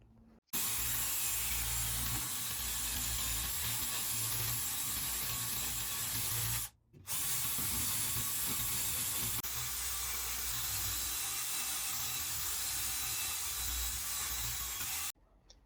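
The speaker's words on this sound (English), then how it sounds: "I've got these little drum sanders for cleaning up the saw cuts left by the jigsaw" A small drum sander working on jigsaw-cut wood edges gives a steady, loud abrasive whir for about fifteen seconds, with two brief stops, one midway and one at the very end.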